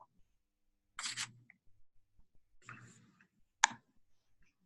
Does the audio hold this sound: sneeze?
no